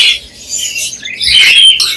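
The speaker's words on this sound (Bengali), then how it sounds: "এখানে খুবই সুন্দর 2 পেয়ার জাবা পাখি আছে" Java sparrows, a fawn and a white pair caged at the Mirpur bird market, give loud, close, high chirps and squeaky calls in quick bursts without any voices.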